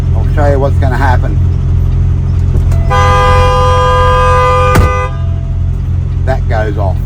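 A truck's brake warning siren sounding when the door is opened with the brakes off, a loud steady tonal alarm lasting about two seconds between bits of talk, over an idling engine.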